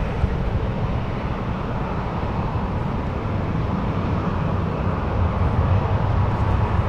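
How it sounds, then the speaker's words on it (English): Sun Country airliner on runway 1 right at San Francisco International Airport, a loud continuous broadband jet engine roar holding steady throughout with no talk. "Sun Country lining up on runway 1 right, flying to Minneapolis, getting ready to get a move on."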